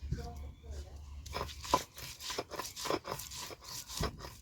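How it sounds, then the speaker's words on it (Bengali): Ginger is ground into paste by hand on a grinding stone in a kitchen, rhythmic rasping crunchy strokes repeating close by after a quiet start. "এবার বাটছি আদা"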